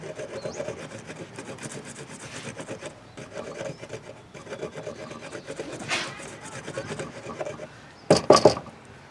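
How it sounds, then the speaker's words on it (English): The sharp spine of a bushcraft knife scrapes along wood in repeated close rasping strokes, steady and moderately loud, ending in a brief cluster of louder, harsher scrapes. "one of the things that I like a nice sharp spine for is so that I can scrape this wood"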